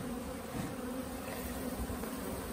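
Many honey bees buzz in a steady, close drone around hives on pallets, a dense continuous hum with no talking.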